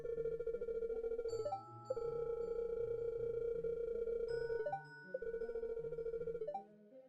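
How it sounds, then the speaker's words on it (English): Electronic telephone ringing inside a home in a horror video game, a steady warbling ring tone repeating in long bursts with brief gaps, fairly quiet and alone. "you'll hear the phone ring in your home"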